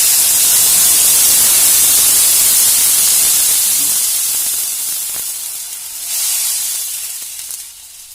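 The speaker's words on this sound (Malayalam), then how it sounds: "നാല് കപ്പ് വെള്ളം ഒഴിച്ചു" Water poured into a hot pan for Kerala-style upma hisses and steams loudly at first, a broad spraying rush that gradually fades and settles with a brief swell near the end.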